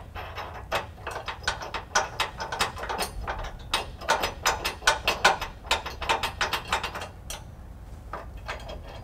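Lock nut on a trailer hitch being tightened on a 2004 Ford F-150, a close, rapid run of sharp metallic ratchet clicks in bursts over low background hum, with no talk.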